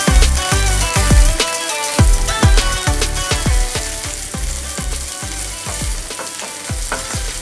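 Sliced onions fry in a hot pan for a veg Maggi masala noodle dish, giving a steady loud sizzle broken by repeated sharp clinks and scrapes of a spatula stirring against the pan, with no talking.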